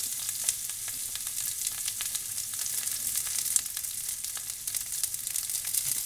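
Onion frying in a pot for a beef curry with mustard seed, a continuous faint crackling sizzle with small pops throughout and no voices.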